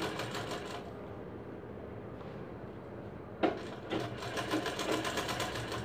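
Sewing machine running steadily while stitching dori piping, with a pause in the middle before the stitching resumes, close and fairly quiet.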